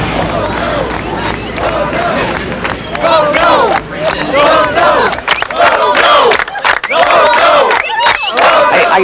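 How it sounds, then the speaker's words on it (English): An angry crowd at a Yonkers city council meeting yells and screams continuously, loud overlapping shouting voices forming a dense roar that swells and breaks in waves. "See the crowd out there?"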